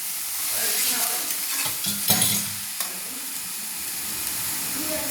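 A spoon stirs fried grated coconut filling with milk for patishapta in a pan on the stove, a steady close scraping and stirring over a constant sizzle and hiss, with no talking.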